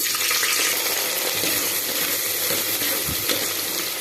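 Sliced onions fry in a pan of oil for a cabbage curry, giving an even, dense sizzle and hiss close by, with faint stirring and no talk.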